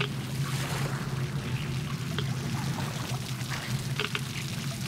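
Water drips and trickles in an unexplored cave area of the game Metro Exodus, a few faint drops falling over a steady low rumbling ambience with no talk.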